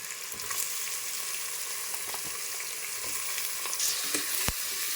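Fresh goat trotters fry in hot oil with turmeric, making a dense continuous sizzle and crackle, with occasional clatter from stirring near the end and no talking.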